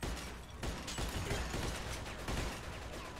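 Gunfire in the video game Mafia 2, dense overlapping shots in a continuous crackling barrage for about three seconds, fairly faint and with no voices.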